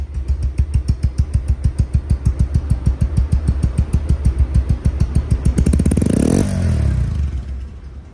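Close and loud, a Bajaj Pulsar double disc motorcycle engine idles in a steady, fast putter, then is blipped into a brief rising rev that fades back down.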